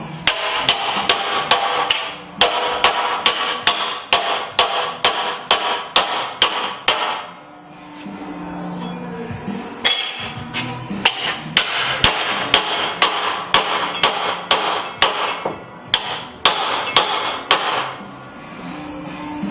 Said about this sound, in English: then you start with a mallet